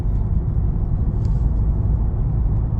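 A Lexus IS220d diesel with an EGR fault runs stuck in limp mode at full throttle in second gear. It gives a steady, heavy low engine rumble from inside the car that never climbs.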